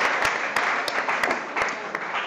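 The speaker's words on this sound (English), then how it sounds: "Give him a big round of applause." Audience applause breaking out as a chef cooking contest gets underway, a steady dense wash of clapping with sharp individual claps popping out, loud and continuous throughout.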